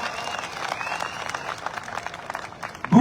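Audience applause at a community family gathering, steady clapping from a crowd for about three seconds with a louder burst near the end.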